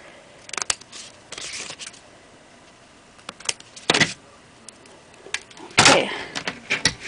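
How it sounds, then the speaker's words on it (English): Several sharp, crisp snips and rustles of scissors trimming paper during card making come in short bursts with pauses between, close up and alone. "take my scissors and just trim off that extra stuff that I don't need."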